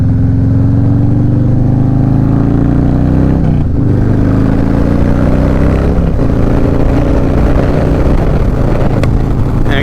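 A Harley-Davidson Low Rider S with a 117 engine and Red Shift 468 cam revs loud and close, a deep throbbing idle that rises and falls through several throttle blips with no talking.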